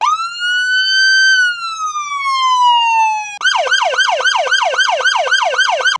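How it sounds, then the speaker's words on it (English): A police siren fitted to a 2026 Tesla Model 3 sweeps in a long rising and falling wail, then abruptly switches to a fast, repeating yelp pattern, with no other sounds. "siren tones, pre-programmed and controlled from inside the Tesla."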